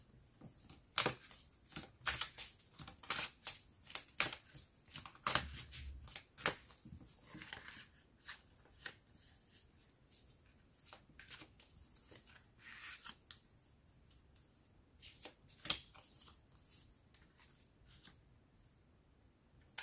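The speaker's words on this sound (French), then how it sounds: "je vais quand même brasser les cartes" Tarot cards shuffled by hand in repeated bursts of crisp riffling and sliding, with short pauses between rounds, close and fairly quiet throughout.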